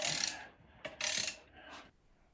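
A ratchet wrench tightening bolts on a Triumph Spitfire clutch pressure plate, with two or three quick bursts of rapid clicking separated by short pauses, close and fairly quiet.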